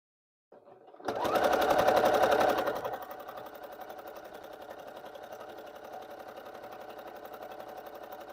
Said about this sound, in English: this walking foot is loud